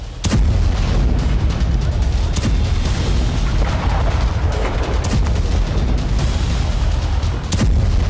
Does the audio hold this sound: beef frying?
no